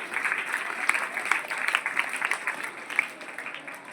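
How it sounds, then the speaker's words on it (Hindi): Applause from an audience at a school cultural competition in Karsola, a fairly faint patter of clapping with some louder claps, steady throughout. "मैडम के लिए जोरदार तालियां"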